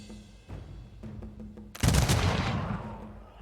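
Musket volleys from units in the strategy game Humankind, a few scattered shots, then a loud dense burst of massed gunfire that rolls on and slowly fades.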